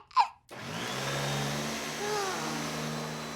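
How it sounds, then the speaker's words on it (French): A household vacuum cleaner starts after a brief sound and runs with a steady droning whine and hum, loud and continuous, with a faint voice briefly over it. "je dois passer l'aspirateur"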